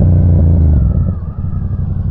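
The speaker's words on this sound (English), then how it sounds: "I like being able to downshift like that again" Yamaha FZ-07 motorcycle engine rumbling loud and close while riding, pitch dropping as the rider downshifts, with steady low-frequency drone and some clatter.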